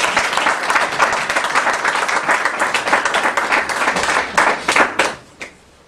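A church congregation applauds and cheers to acclaim the king of kings, steady dense clapping for about five seconds before breaking into a few final claps and fading out.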